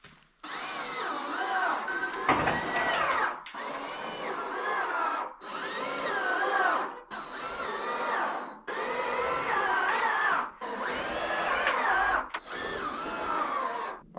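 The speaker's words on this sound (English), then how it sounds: "we'll get this guy screwed in and we'll be all done here" A power drill drives screws through scrap metal roofing in about six separate whirring bursts of a second or two each, close and fairly loud, with short pauses between them.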